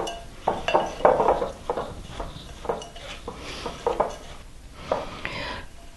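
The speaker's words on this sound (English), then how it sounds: "we just want to dump them into a bowl. And just give it a quick blend." Crumbs are blended with melted butter in a bowl for a pie crust, heard as irregular close clinks and scrapes of a utensil against the bowl in short bursts, with no talk.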